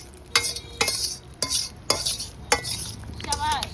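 Prawns frying in oil in a pan at an outdoor winter picnic, stirred with a metal spatula in about six sharp scraping strokes over a soft, steady sizzle.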